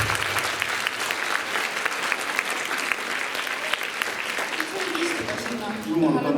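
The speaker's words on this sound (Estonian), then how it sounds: "Teeme jõuluvanale suure aplausi." Christmas party audience applauding Santa Claus: steady, dense clapping from a full room that carries throughout, with a few voices and stray tones emerging near the end.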